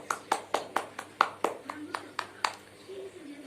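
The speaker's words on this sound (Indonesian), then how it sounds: "Tepuk tangan dulu." A class in an Indonesian micro-teaching lesson claps hands in a quick rhythmic series of about eleven sharp, evenly spaced claps, close and clear, with faint voices underneath.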